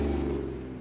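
Pontiac Fiero engine with dual 6-inch exhaust pipes and an aftermarket muffler, a steady low, rumbling drone that stays loud and close, easing slightly toward the end.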